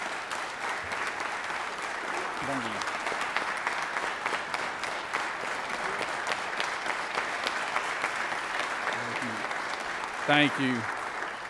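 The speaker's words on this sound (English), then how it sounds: "please give them a round of applause right there." A legislative chamber bursts into steady, full applause from many hands, sustained throughout, while a voice speaks briefly over it near the end.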